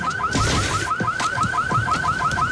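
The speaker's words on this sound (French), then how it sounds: "on dirait mon alarme" A car alarm blares close by in a rapid, repeating rising whoop pattern, loud and continuous.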